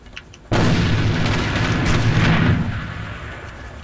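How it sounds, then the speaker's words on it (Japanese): A hand grenade blows up in the shooter game AVA: after a short quiet lead-in, a sudden loud booming blast hits and rumbles for about two seconds before fading into a lingering tail. "手榴弾を使うぞ。"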